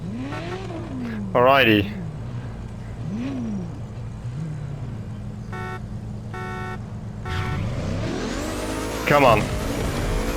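Ferrari F50 and F40 in the video game The Crew Motorfest, engines revving and rising in pitch through gear changes, with repeated horn-like tones and a voice talking over them.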